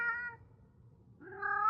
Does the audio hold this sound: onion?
no